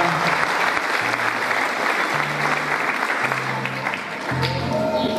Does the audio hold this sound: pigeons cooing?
no